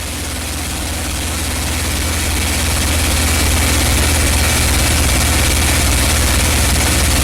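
A TF-51 Mustang's piston engine drones steadily in flight as the throttle is eased back, a loud, dense, unbroken roar that swells slightly and holds without any voices.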